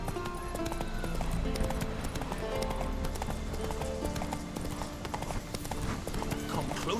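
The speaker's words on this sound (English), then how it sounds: "Run, Roach." Hooves of the horse Roach clip-clop in a fast, steady gallop in The Witcher 3: Wild Hunt, with the rapid beats close and prominent and game sounds around them.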